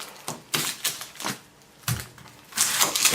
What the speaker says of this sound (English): These onions, are going to cut the root off